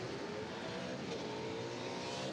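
A 1973 McRae GM1 Formula 5000 race car races at Pukekohe, its engine giving a loud, steady, high-revving roar that stays close for the whole stretch.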